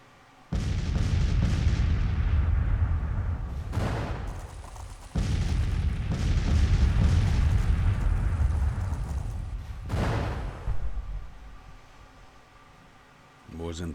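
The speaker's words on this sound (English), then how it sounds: "Artillery's causing casualties, but I'm taking casualties in return." Artillery fire in Grand Tactician: The Civil War, a strategy game of Civil War battles: continuous booming cannon fire rolls on at a distance, with several sharper blasts rising above the steady rumble, while a voice talks over it.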